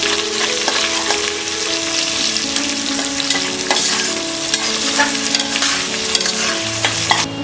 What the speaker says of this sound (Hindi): अब हम इसमें डालेंगे ये अनियन, और इसे 2 मिनट फ्राई करेंगे।